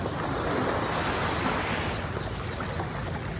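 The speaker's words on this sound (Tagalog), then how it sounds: "malakas-lakas na yung tubig ng alon" Strong high-tide waves roll and crash in a continuous, loud rush of surf in Eastern Samar, with wind buffeting the microphone.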